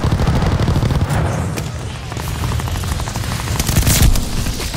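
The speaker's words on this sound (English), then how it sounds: "Your teammate called an airstrike." Loud airstrike explosions and bursts of gunfire from a Call of Duty Warzone match, heavy booms and rapid cracking shots piling over a dense rumbling battle backdrop.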